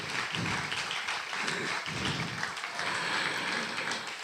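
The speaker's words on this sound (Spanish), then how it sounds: "recibimos con un fuerte aplauso a Connie Cherep también." Audience applause at a talk welcoming a speaker, a moderate, steady patter of clapping from a crowd, slightly distant, with no voices over it.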